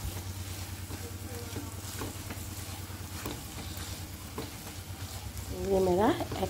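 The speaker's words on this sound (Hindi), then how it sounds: "ये मेरा एग फ्राई" Egg frying in a pan, with a steady crackle under a low hum, a few soft clinks and a brief louder scraping rise near the end.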